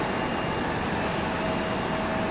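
Continuous jet and turboprop roar from a CRJ 700 regional jet and an ATR turboprop side by side on the runway at Raleigh-Durham International Airport, steady and loud throughout.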